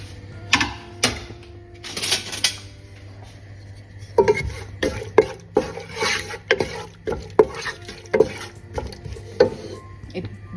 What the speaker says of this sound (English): Let me flavor the oil with the garlic first.